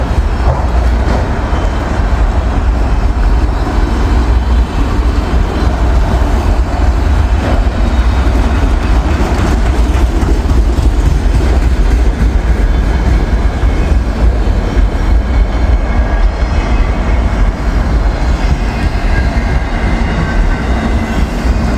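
A freight train hauling loaded auto racks thunders by on a snowy day, its heavy, continuous rumble and clatter of wheels holding loud and steady throughout.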